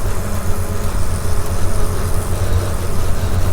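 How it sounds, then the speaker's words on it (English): A 1953 Willys Jeep M38A1 misfires while driving at about 45, its engine a loud, rough, uneven drone with road and tyre noise, no talk. "No, we're misfiring."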